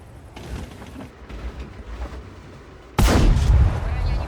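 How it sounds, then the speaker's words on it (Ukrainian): Artillery fire in a tank video game booms out as a loud, sudden blast after a few seconds of muffled in-game rumble and clatter. "ще й артилерія починає дохлопушувати"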